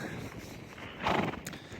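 A lame horse, limping after being kicked and carrying a large quarter crack in its front left hoof, moves with soft, uneven hoof clops and a louder scuffing burst near the middle, close by with no talk.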